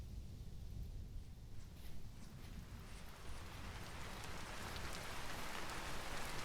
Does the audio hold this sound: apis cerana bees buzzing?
no